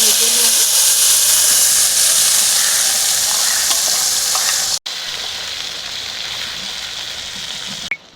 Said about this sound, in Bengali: এবার এটাকে ভেজে নেব।